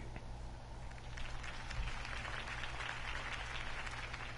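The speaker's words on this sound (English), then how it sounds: "could have heard that applause" A crowd applauds and cheers steadily in the video game Telltale's Batman, a dense wash of clapping held at an even level throughout.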